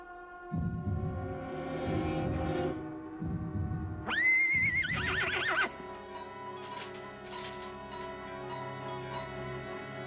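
A horse neighs loudly nearby, a long, shrill, quavering whinny rising and falling, set against a steady backdrop of rhythmic clopping and ticking sounds.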